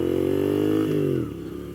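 A 2015 Moto Guzzi V7 mk2 750cc motorcycle drones steadily at speed, its engine note holding and then dropping slightly in pitch over a short stretch.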